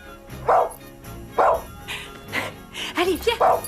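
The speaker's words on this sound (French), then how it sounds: "tu es un bon chien" A dog in snow gives a string of short, close barks and yips at an uneven rhythm, some with a whimpering edge, each loud and brief with short pauses between.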